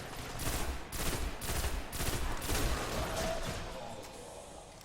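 Rapid bursts of gunfire in the Destiny shooter game, clustered volleys repeating in rough pulses at moderate level, tapering off toward the end.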